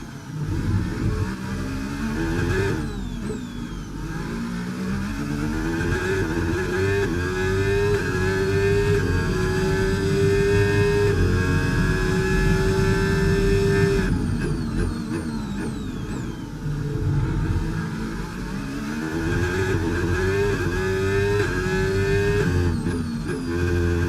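Formula 1 car engine from the F1 25 racing game at Monaco, a loud continuous high-pitched whine that rises and falls with upshifts and downshifts throughout, with no talk over it.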